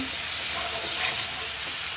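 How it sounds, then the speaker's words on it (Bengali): Spices are being stir-fried for a bhetki or patari fish and potato curry, giving a constant close sizzle with soft scraping from stirring in the pan. "মশলাটা আমি কষায় নেব।"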